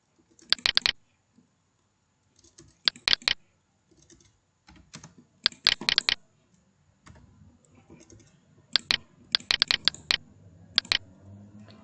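Computer keyboard and mouse clicks in AutoCAD, sharp clusters of quick taps and clicks in several short bursts separated by quiet gaps, close and crisp.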